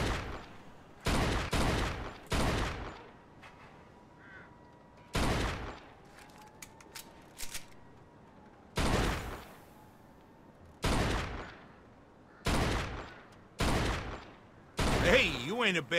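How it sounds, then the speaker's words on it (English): Bursts of gunfire aimed at car tires in the Mafia 2 video game ring out in about ten sharp volleys spread across the stretch, loud and separated by quieter game ambience. "Okay, deci trebuie să tragem în roți."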